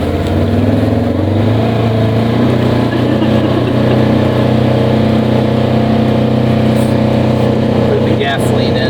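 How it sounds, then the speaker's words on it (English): A Polaris Ranger side-by-side UTV with a gasoline engine drones loudly and steadily while driving, heard up close from on board, with a constant low rumble throughout. "It is a Polaris Ranger, a side-by-side UTV."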